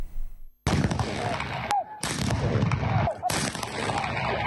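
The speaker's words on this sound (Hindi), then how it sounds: "कोयटा में दिन का आगाज़ कोयटा कैंट में 21 तोपों की सलामी से हुआ।" Cannon fire of a 21-gun salute at Quetta Cantonment sounds as loud, heavy booms separated by short gaps, each with a broad roaring burst that cuts off abruptly.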